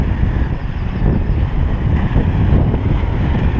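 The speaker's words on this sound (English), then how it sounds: "It's pretty windy, so you might not hear me so good" Strong gusting wind buffets the microphone on a Lake Superior coastline, a loud, steady low roar with churning rumble and no clear voices.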